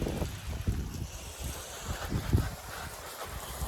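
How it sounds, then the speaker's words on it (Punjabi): Steady wind rushes and buffets against the microphone, a low continuous roar with gusty swells and no voices. "ਠੰਡੀ ਹਵਾ ਚੱਲਦੀ ਆ"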